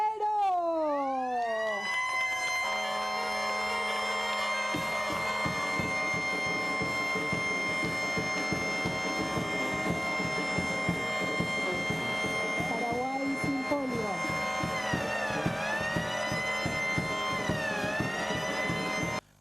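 Sirens wail continuously at an official vaccination event in Paraguay, several overlapping tones rising and falling, loud and nearby, with a low rhythmic rumble beneath and no speech.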